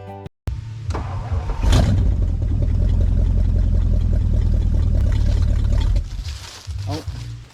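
A 1960 Edsel rear end spins up with a loud, steady mechanical roar that holds for several seconds and then drops away, with brief voices at the start and end.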